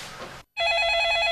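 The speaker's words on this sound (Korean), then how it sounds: "전화 좀 받아." A telephone rings indoors in a home drama scene, a steady electronic warbling bell that starts loud and close after a brief silence and sustains to the end, following a short stretch of background noise.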